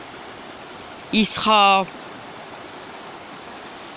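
River water flows in a steady, even broadband rush throughout, close and constant, with a brief French-speaking voice over it early on.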